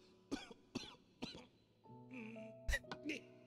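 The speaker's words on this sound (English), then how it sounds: "What are these coughs?" Three short, sharp coughs come in quick succession, followed by a brief stretch of muffled voiced sounds and another rough cough near the end.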